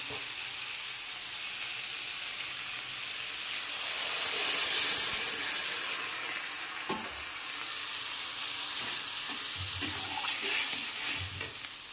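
Milk is poured into a frying curry in a pan, setting off a loud, hissing sizzle that swells, steams for several seconds and then settles into a steady bubbling fry with a few light utensil knocks.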